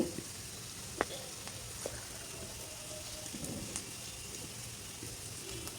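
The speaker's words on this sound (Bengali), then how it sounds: "এক কাপ ভরে পেঁয়াজ নিয়ে এখন একটু নাড়াচাড়া করে ভেজে নিচ্ছি" A cupful of onions fries lightly in a pan while being stirred for chicken kala bhuna, giving a faint, steady sizzle broken by a few soft clicks from the stirring.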